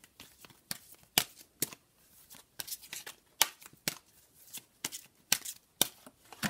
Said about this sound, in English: So I'm just going to give these cards a quick shuffle.